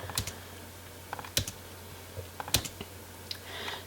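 Keystrokes on a computer keyboard while deleting spaces in label text, a few sparse taps and short clusters, moderately close over a low steady hum.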